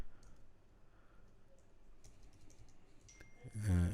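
HTML code is typed on a computer keyboard while setting up a first page in Visual Studio, a quiet run of scattered, close key clicks in a hushed room, ending with a brief louder thump.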